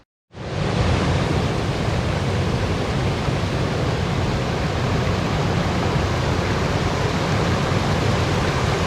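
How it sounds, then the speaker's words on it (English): Waterfall on a side creek, a loud, steady broadband rush of falling water that starts abruptly and holds constant, close by, with no voices. "The waterfall on our side creek is looking pretty good today too."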